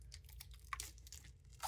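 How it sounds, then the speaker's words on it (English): Tarot deck packaging being cut open, a close, quiet crinkle and tear of wrapping with a couple of brief sharper snips, no talking. "So let me cut this open here."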